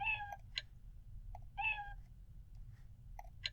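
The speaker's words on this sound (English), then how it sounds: "this kitty is friendly." A cat meows twice in Exile III: Ruined World, two short, clear mews spaced about a second and a half apart, with faint clicks in between over a low, quiet background hum.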